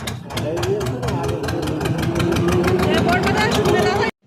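A passenger boat engine chugs in a rapid, steady rhythmic throb, loud and close throughout, while someone talks over it before it cuts off abruptly at the end.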